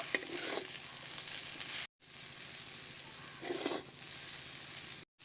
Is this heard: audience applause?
no